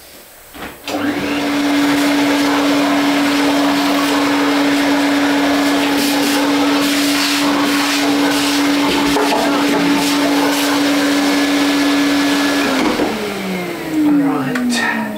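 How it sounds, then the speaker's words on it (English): A vacuum cleaner cleans off a carved wooden automaton head in a workshop, starting abruptly and running as a loud, steady whine for about twelve seconds before winding down with a falling pitch. "Let's just vacuum it off."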